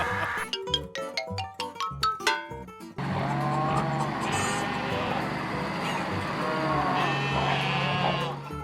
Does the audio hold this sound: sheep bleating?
yes